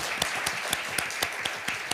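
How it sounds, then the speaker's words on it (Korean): A crowd claps together at a year-end public broadcast event of a Seoul party chapter, with sharp, rhythmic hand claps standing out over a dense, continuous wash of applause. "네, 박수 한번 주세요."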